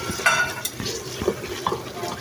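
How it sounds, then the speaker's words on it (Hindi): A spoon scrapes and stirs mutton with spices as it fries in a pan, giving close, busy clatter and scraping over a soft sizzle, with no speech. "2 मिनट तक इसको भुनाई करेंगे।"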